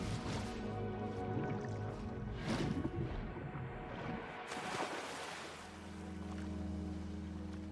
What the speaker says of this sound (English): And then we fall into water.